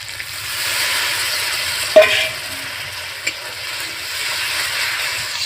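Spice paste for a small mixed-fish curry fries in hot oil with a steady, close sizzling hiss, one sharp spatula clack near the middle and a few faint scrapes, with no voices.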